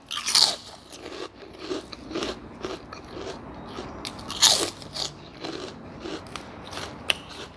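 Crispy raw vegetables crunched and chewed close to the mic, eaten with a small-noodle pork noodle soup topped with fried garlic and crispy pork rind, loud bites followed by a steady run of wet crunching.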